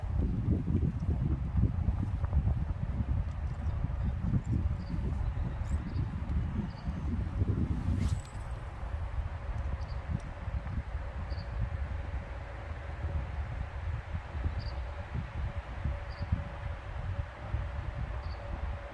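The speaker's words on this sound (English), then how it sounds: "that wind is brutal" Low, gusty wind rumbles against the microphone on a boat on a big river in Maine, heavy at first then easing, with faint insect chirps in the background.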